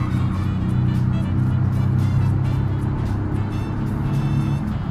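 Engine and road noise of a small Italian car with a low top speed, driven in the video game BeamNG Drive, a steady loud hum running throughout with no one talking.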